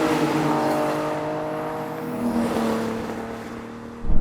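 A race car roars past close by with a loud sustained engine drone that shifts pitch as it goes by, ending in a sudden sharp rise in volume.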